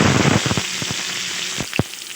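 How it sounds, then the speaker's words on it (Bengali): Chopped tomato hits hot oil already frying cardamom and panch phoron for methi chholar dal. A loud hiss rises with a quick run of crackling pops that ease into a steady sizzle, and a few sharp spits follow. "এগুলো সব ভাজা হয়ে গেছে এবার এতে দিয়ে দিচ্ছি একটা টমেটো কুচি"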